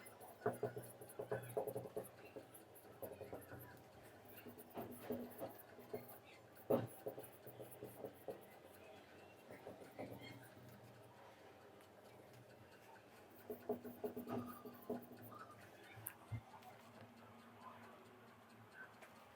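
Chalk or marker writing on a board during a biochemistry lecture: quiet, close, irregular tapping and scratching strokes in bursts, with a voice heard faintly.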